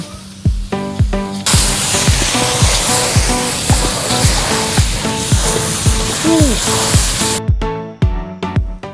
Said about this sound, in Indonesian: Tumis bumbu sampai harum.